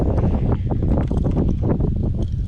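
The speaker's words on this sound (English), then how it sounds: "It's windy out here" Wind gusts buffet the microphone outdoors on open water while fishing for bass in the rain, a loud, close, continuous rushing roar that fluctuates slightly in strength.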